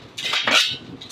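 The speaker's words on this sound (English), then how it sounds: "I may still have to get down here in the corner and scrape this last little bit of food" A metal scraper drags across a Camp Chef griddle top, clearing the last bits of stuck food from a corner in two or three short, close rasping strokes.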